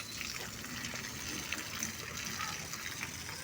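Water flows and trickles steadily onto garden plants during a morning watering at home, a soft continuous splashing wash heard close by.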